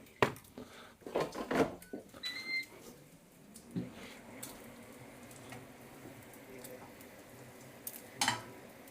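Bacon fries in a pan with a soft, low sizzle under several close clatters and knocks of utensils and cookware, the busiest stretch coming early.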